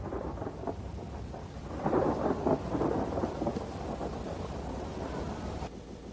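Heavy rain and a wind storm rumble with thunder in a film scene, a steady loud downpour swelling into a stronger burst midway and continuing without voices.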